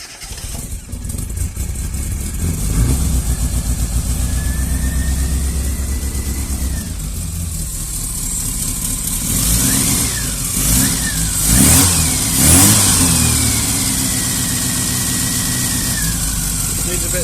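A classic Mini engine fitted with a new exhaust catches and settles into a loud, steady idle nearby, then is blipped through several sharp revs that climb and fall before it returns to idle.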